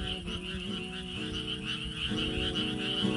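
A chorus of frogs croaks at night in the countryside in overlapping, rhythmic pulses, loud and close, with a faint high insect hum underneath and no talking.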